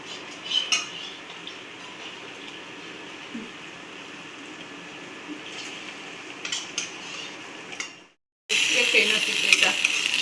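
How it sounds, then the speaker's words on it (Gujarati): Wheat flour pasta tipped into a pan of masala seasoned with Maggi masala, soft sizzling and metal spoon scrapes and clinks close by, with a brief silence before louder frying resumes. "તો આપણે આમાં પાસ્તા નાખી દઈએ."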